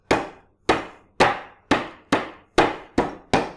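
A lemongrass stalk is smashed for Indonesian yellow rice (nasi kuning), giving eight loud, sharp whacks at a steady, even rhythm, each followed by a short decay, with no talking.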